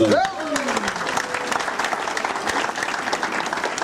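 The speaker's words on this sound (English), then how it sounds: "So please, a round of applause for him." An audience claps steadily at an event hosted by an MC, the applause dense and sustained throughout, with a brief voice at the very start.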